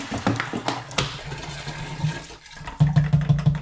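Cold water gushes and splashes into a plastic fermenter during home cider brewing, a close, loud pour that wavers, briefly dips, then surges with a deeper hollow filling tone.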